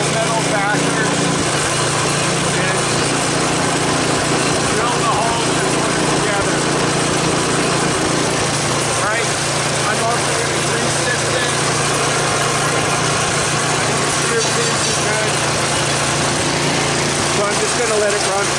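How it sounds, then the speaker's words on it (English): Cub Cadet snowblower's small gas engine runs continuously, a loud, close, steady mechanical drone with rattling overtones that holds without pause throughout. "I'm just going to let it run for a few minutes off camera just to make sure that the gas is flowing"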